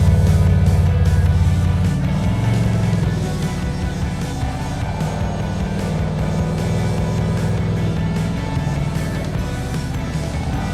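Motorcycle engine on a riding-course track pulls steadily as the clutch is let out, a loud continuous low-pitched drone that eases slightly after a few seconds, with no talking.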